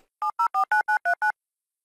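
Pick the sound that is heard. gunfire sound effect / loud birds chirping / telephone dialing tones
telephone dialing tones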